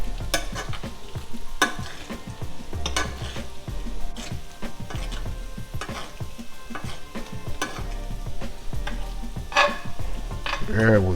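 Garlic herb butter steak bites sizzling in a pan as hot butter is basted over them, with a constant crackle punctuated by repeated spoon clinks and scrapes against the pan.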